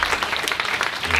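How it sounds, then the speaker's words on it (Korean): A church congregation in Korea breaks into applause during a Saturday service, a short dense burst of clapping from many hands. "우리 한번 하나님께 영광과 감사의 박수 올려드립니다"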